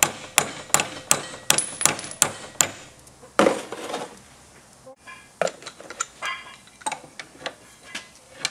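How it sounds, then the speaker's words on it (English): A hammer taps on a Ford Taurus rear brake caliper: a run of sharp metallic strikes at a steady rhythm, a pause, then more scattered knocks, close and loud. "Tap it with a hammer a little bit, and then just keep turning."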